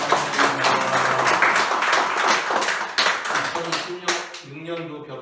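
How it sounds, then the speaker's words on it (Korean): A church congregation claps in welcome at a Korean Thanksgiving Sunday service. The sustained applause fades out toward the end, and voices talk over and after it. "다 함께 환영의 박수 하시겠습니다."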